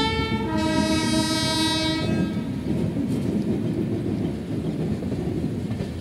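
Electric locomotive hauling intercity train 22960 departing Rajkot Junction sounds a long, loud two-tone horn, then rumbles steadily on the rails with faint clickety-clack, no voices.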